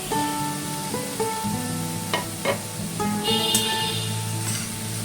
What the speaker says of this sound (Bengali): এখন কেটে রাখা লাউটা এর মধ্যে আমি অ্যাড করে দেবো।